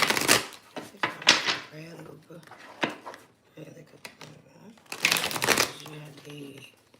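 Tarot message cards being drawn and shuffled from a deck, several quick crisp riffles and flicks close by, with a voice talking between them.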